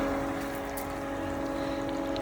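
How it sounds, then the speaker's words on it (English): Filtered water pouring back into a backyard swimming pool, a steady close trickle and splash with a faint pump hum underneath, continuous and unbroken. "The water is going back in here."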